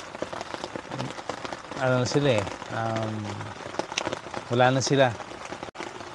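Rain falls at a campsite, a steady patter of raindrops on a surface running throughout while someone speaks over it.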